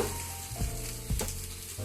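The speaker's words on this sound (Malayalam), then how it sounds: "നമുക്ക് ഈ തേങ്ങ ആദ്യം ഒന്ന് വറുത്തെടുക്കാം ചട്ടി ചൂടായിട്ടുണ്ട്" Grated coconut dry-roasts without oil in a hot pan with a steady soft sizzle, broken by a few scraping strokes of a spatula.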